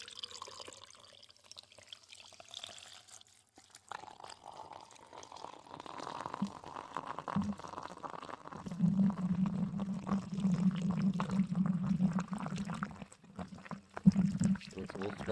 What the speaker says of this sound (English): And then we pour.